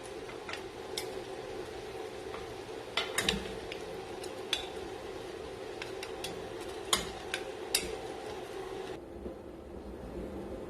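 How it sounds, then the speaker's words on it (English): Beef and bones browning in a hot pot as the meat is turned: a steady close sizzle with scattered sharp metallic clinks and taps of a utensil against the pot, no talking. "So now the beef is brown on one side. I'm going to turn it to the other side."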